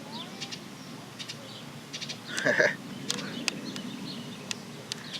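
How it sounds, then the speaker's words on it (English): A small young bird calls outdoors in Tennessee with a few short, high chirps and one louder squawk amid a low background rumble, while a person talks nearby. "Hope y'all enjoy the little bird."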